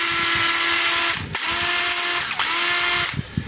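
A DeWalt DCF885 cordless impact screwdriver, tested after a carbon-brush fault that left it lighting up without turning, whirs loudly and close in three sustained runs with brief pauses between them.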